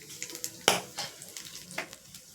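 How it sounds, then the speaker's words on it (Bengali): Cumin seeds and a dried red chilli hit hot oil for tempering, giving a soft crackle with a few sharp pops, one louder burst near the start, all fairly quiet and close. "পাবো তো জিরেটা ফোড়ন, আর একটা শুকনো লঙ্কা ফোড়নে দিলাম"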